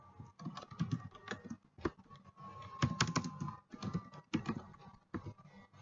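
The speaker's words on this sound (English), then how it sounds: "type in your details." Someone types steadily on a computer keyboard, entering details into an MS Access form, with close, irregular bursts of key clicks and brief pauses and no talk.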